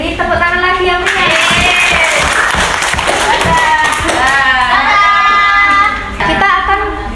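Schoolchildren in a fourth-grade social studies lesson clap together in quick bursts, with excited young voices chattering over and between the claps throughout.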